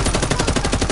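A rapid, steady stream of automatic gunfire from a Call of Duty MW3 weapon rattles along at close range and high volume, with no talk over it.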